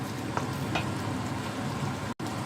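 Vadai curry being stirred in a pan while it cooks, a continuous soft sizzle with a couple of faint scrapes of the spoon.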